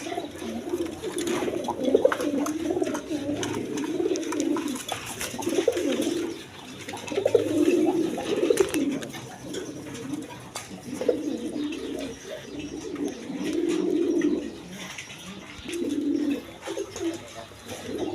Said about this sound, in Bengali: এইখানে এক পেয়ার ফিল্ডব্যাক কবুতর আছে।